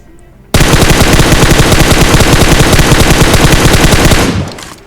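Rapid automatic gunfire from the PUBG Mobile battle royale game, a loud, dense, unbroken burst lasting several seconds that cuts off abruptly.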